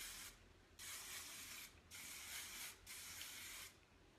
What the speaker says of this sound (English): So I just kind of like separate my hair out, spray all of it.